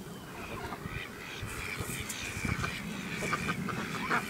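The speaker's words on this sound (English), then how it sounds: "Throw one to the duck." A duck quacks repeatedly outdoors while being fed, the calls rough and irregular over a busy, noisy background.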